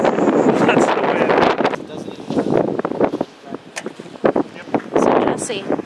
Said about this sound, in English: You hear that wind? You hear my mic blowing out? That's the wind.